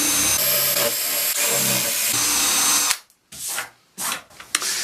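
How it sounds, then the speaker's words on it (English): A power drill bores into wood veneer on a piece of furniture being restored, a loud close steady whine for about three seconds, then several short bursts separated by silence. "if you drill down, so if you drill that way, that's what happens, it starts lifting the veneer a bit"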